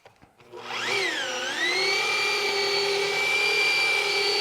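A car paint correction polishing machine spins up from quiet with a rising whine, then holds a loud, steady high-pitched drone for several seconds.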